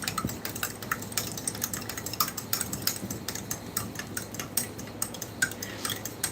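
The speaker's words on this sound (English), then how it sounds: "I'm going to give the orange drink another stir" Metal spoon stirring orange powdered drink mix in a container, a steady run of quick light clinks and scrapes, fairly faint and close, with no voices.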